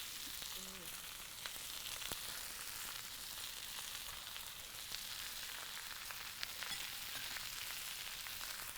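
Spices including turmeric fry over direct heat, giving a steady, soft sizzle with faint crackles close by and no talk over it.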